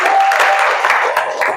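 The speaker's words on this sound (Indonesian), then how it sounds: "Tepuk tangan untuk." Brief burst of classroom applause during an Islamic religious education lesson, a dense wash of clapping with a voice faintly audible underneath.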